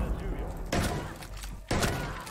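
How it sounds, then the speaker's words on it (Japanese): A barricade behind the player breaks in a video game: two sharp, loud crashing bursts land about a second apart, with faint game ambience between them. "後ろのバリケードが壊れた音が。"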